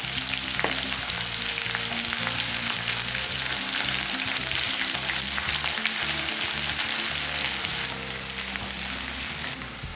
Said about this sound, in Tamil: இந்த மாதிரி தட்டி வச்ச பூண்டை நல்லா எண்ணெயில் பொரிச்சிட்டு செய்யும் போது மீன் குழம்பு ரொம்ப நல்லாயிருக்கும்